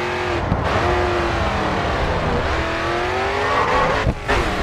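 A race car drifting in GRID 2, its engine droning and rising through the slide with tires squealing, close and loud, with a brief dip near the end.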